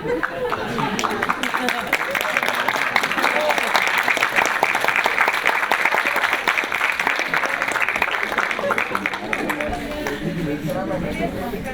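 An audience at a film talk gives loud, continuous applause, mixed with laughter and chatter, that swells and then tapers off toward the end. Voices can be heard through it.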